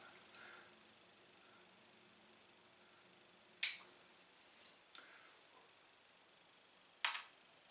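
Snips nipping a soft, long orchid root, three or four sharp isolated clicks spaced seconds apart, close and fairly faint against quiet.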